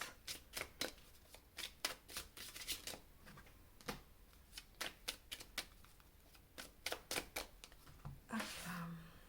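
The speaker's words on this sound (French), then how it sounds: "Et là, je vais utiliser l'oracle des miroirs, dont je vais prendre 3 cartes." Oracle cards being shuffled and drawn by hand, a close, quick series of crisp riffling flicks and slaps in irregular bursts, ending with a soft shuffle and brief handling noise, quiet overall.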